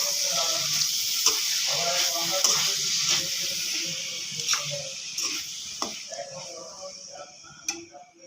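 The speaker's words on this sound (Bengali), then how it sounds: "শাক ভাজি করি।" Red amaranth greens fry in a pan with onion and green chili, giving a steady close sizzle broken by light clicking stirs throughout.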